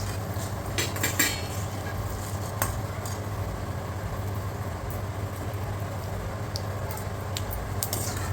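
Fenugreek seeds fry in a pan for an instant mango coconut pickle, giving a steady close sizzle with occasional light clinks of a utensil against the pan.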